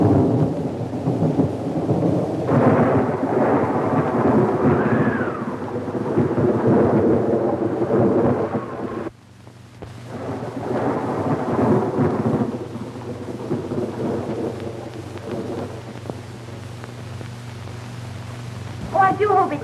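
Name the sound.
rain and thunderstorm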